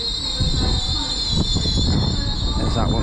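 A Class 387 electric train pulls into Stevenage station, giving a steady rumble with a high, sustained wheel squeal, while a person speaks briefly.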